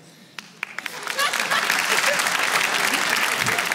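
Audience applause at a comedy show begins with a few separate claps, then swells into full, steady clapping from the crowd that carries on for the rest of the stretch.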